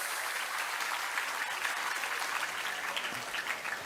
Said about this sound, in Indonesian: Tepuk tangan dulu untuk santri tambak beras.